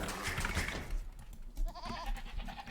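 Sheep bleats in Age of Empires II, thin and somewhat wavering, rise over a steady low rumble and scattered game ambience, with a short warbling call near the end.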